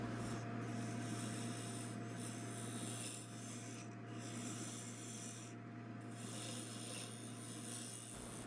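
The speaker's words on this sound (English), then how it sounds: "this is the Carter & Son skew chisel. Trying to make sure that it is flat." Carter & Son skew chisel cutting the foot of a western maple bowl spinning on a lathe, a steady close scraping rasp with continuous motor hum underneath and slight variations in the cut.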